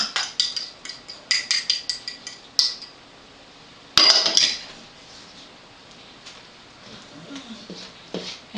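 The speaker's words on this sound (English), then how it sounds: "And just mix that all the way through." Chocolate cupcake batter mixed in a bowl: rapid rhythmic clinks of a utensil against the bowl, a sharp knock, then softer intermittent scraping and tapping.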